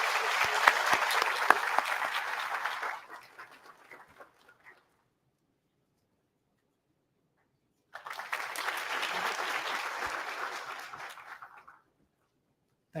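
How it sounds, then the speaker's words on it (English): A lecture-hall audience at a university event in Gujarat applauds loudly for about three seconds. The clapping fades out, then after a silence a second full burst of applause swells and tails away. "Please have a big round of applause."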